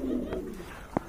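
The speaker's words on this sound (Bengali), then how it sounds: "এখানে কিন্তু এক জোড়া মালটেস কবুতর রয়েছে" A pair of Maltese pigeons, one red, coo at close range in a low warbling run that fades, followed by a single sharp tap near the end.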